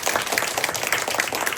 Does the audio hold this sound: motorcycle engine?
no